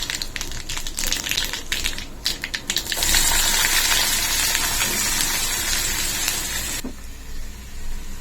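Mustard seeds, dried red chillies and cumin crackle and sizzle loudly in hot oil, a dense, steady hiss that swells for several seconds and then suddenly dies down.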